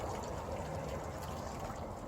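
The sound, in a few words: watering can filling a no-drip plug tray with water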